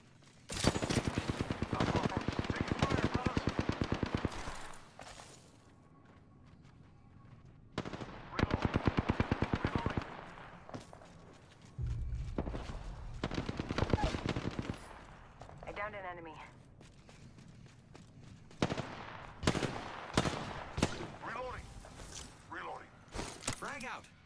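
Automatic gunfire in the video game Apex Legends: rapid bursts of shots in several volleys, loud and close, with quieter pauses between them and a voice talking over parts of it.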